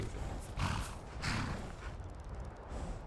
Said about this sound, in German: Gut, ein Pferdchen.